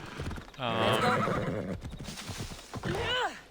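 A horse whinnies loudly with hooves clopping underneath, followed by a second, shorter neigh, in the video game Assassin's Creed Odyssey.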